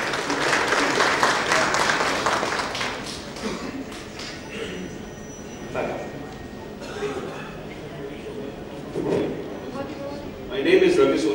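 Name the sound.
audience applause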